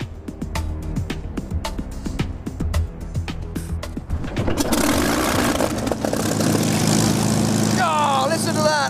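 A Supermarine Spitfire aircraft engine coughs and sputters through its start, then roars into a loud, steady piston beat close by, with some clicks and clatter before it catches.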